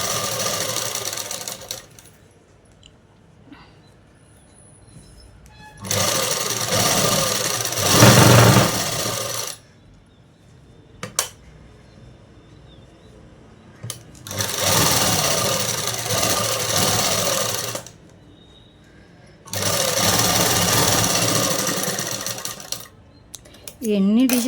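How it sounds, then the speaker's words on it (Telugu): A sewing machine stitches an open-top dress in three long, steady runs of loud mechanical whirring, separated by quieter pauses with handling noises and someone speaking. "పై కుట్టు వేసేసుకొని ఇంకా మళ్ళీ అనేది తిప్పి కుట్టు అనేది సేమ్ ఇందాక ఎలా వేసుకున్నామో అలా అనేది"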